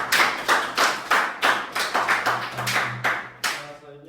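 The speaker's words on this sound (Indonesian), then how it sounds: "Beri tepuk tangan pada Gayatri." Schoolchildren in a fourth-grade primary classroom clap for a classmate in about eight rhythmic, evenly spaced bursts of hand claps, close and fairly loud, ending with a brief tonal ring.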